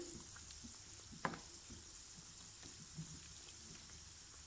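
Balushahi frying slowly in oil over a low flame, giving a faint, steady bubbling hiss with one brief clink near the start and no voices.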